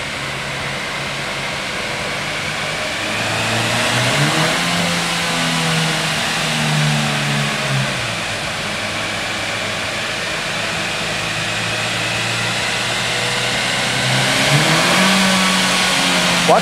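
Engine of a 2012 Chevrolet Cruze LT with automatic transmission revs up hard past 4000 rpm, a steady mid-pitched drone rising and falling through the gears, heard from inside the car with no talking.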